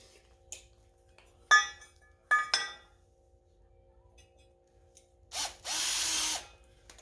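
An electric drill bores a 3/8-inch hole through a metal plate for a mini tractor brush guard and weight mount. A few clinks and ratchety taps come first, then a short, loud, steady drilling burst in a quiet room.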